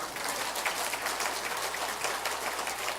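Applause from a church congregation at a baptism and confirmation service, a steady even patter of clapping filling the room at moderate loudness with no voices over it.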